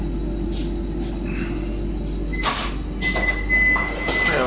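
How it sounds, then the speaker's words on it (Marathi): An automatic sliding door on a Vande Bharat train opens with a mechanical whir and clunk over the steady rumble of the carriage, followed by a few short beeps. "या बाजूने आता हा दरवाजा उघडलाय, स्वयंचलित आहे।"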